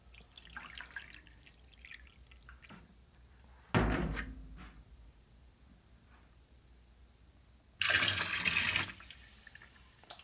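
A washing machine filling with water and white vinegar gives a faint, quiet trickle punctuated by two louder bursts of rushing water, heard up close with no talk.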